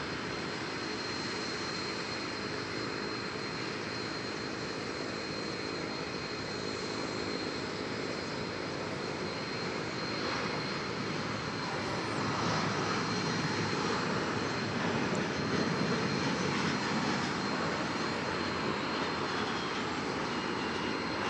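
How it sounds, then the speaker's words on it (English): Airliner rolling for takeoff on runway 18 Left at DFW Airport, a steady, loud roar of jet engines that builds slightly in the second half and sustains throughout, with no voices. "Arnav Laren, 18 left, clear for takeoff, American 9780"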